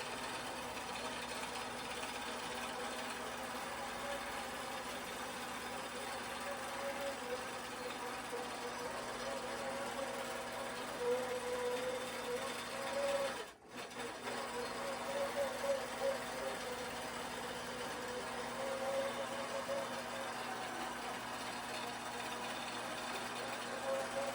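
A Lucey longarm quilting machine stitching a Quilt Path pattern runs with a steady mechanical hum and whirr, pausing briefly midway before resuming, with a voice speaking over it.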